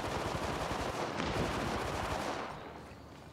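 Rapid automatic gunfire in the shooter game Apex Legends, a dense close burst of shots that rattles for over two seconds and then fades to a quieter tail.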